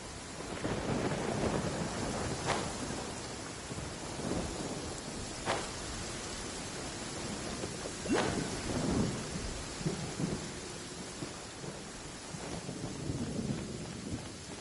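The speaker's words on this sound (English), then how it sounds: "Oh, I don't like the rain." Steady rain falling outdoors with several sharp thunder cracks and rumbles rolling through, loud and close, with some wind buffeting the microphone and no talking.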